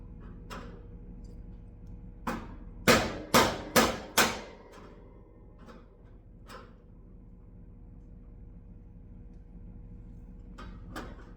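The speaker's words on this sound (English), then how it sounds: "So I got this little colorful little hammer here." A small hammer strikes a metal plate to break its tack welds, giving four sharp metallic blows in quick succession amid a few lighter taps, in a fairly quiet room.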